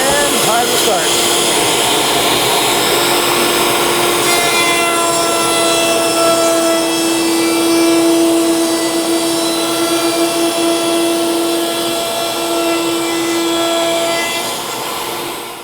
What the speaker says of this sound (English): Turn on the router, dust collection, and time to start.